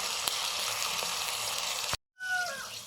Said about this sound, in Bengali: আদা বাটা, একটু জল দিয়ে মশলাটা কষে নিচ্ছি।